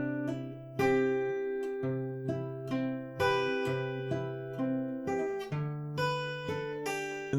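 An acoustic guitar plays a melodic run of plucked notes with a bass note first and pull-offs between strings, clear and close, each note ringing and decaying in an even rhythm.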